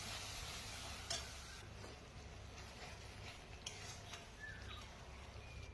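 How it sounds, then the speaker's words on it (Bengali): Masala paste with a little water being stirred and fried in a pan for aloo dum, a quiet, steady sizzle with soft scraping stirs and a few faint ticks, no talking. "একটু জল দিয়ে ভালো করে সব মশলাগুলো মিক্স করে নিব।"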